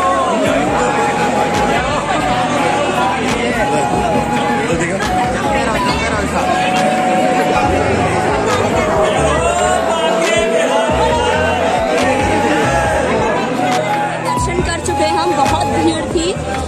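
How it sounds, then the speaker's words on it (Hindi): A packed crowd queues at the Banke Bihari temple in Vrindavan, and loud, continuous babble from many voices sounds close, with traffic noise mixed into the din. "बांके बिहारी के मंदिर में, जहाँ की बहुत लंबी लाइन लगी हुई है और बहुत ज्यादा भीड़ है"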